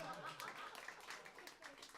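A comedy roast audience applauds together, a soft, steady wash of many hands clapping at a distance with no distinct claps standing out.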